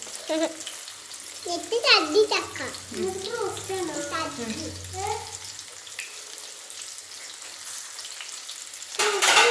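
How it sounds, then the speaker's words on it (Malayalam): Homemade broasted chicken deep-frying in hot oil gives a steady, close crackling sizzle throughout, with a muffled voice briefly over it early on and a louder burst of bubbling near the end. "ഫ്രൈ ആയിക്കൊണ്ടിരിക്കുകയാണ്"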